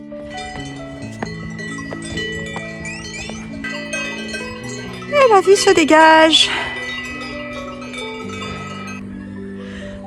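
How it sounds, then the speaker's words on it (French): Cowbells clang on grazing animals in steep Alpine pastures of Appenzell, a scattering of bell tones at varied distances, with a brief louder cluster midway and a short spoken remark. "on monte au son des cloches"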